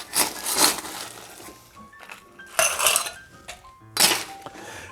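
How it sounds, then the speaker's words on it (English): Ice cubes tumbling into a copper mug or rocks glass for a low-carb Kentucky mule, three bright clattering bursts of clinking and rattling, close and loud, with no talk. "So from here, we're gonna add some ice."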